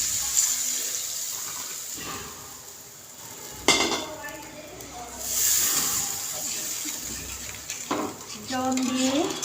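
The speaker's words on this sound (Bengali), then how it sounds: "এবার দিয়ে দিচ্ছি পরিমাণ মতো জল।" Water is poured into a pan of sizzling rohu fish curry masala, bringing a burst of splashing and bubbling amid clinks of utensils against the pot, close and moderately loud.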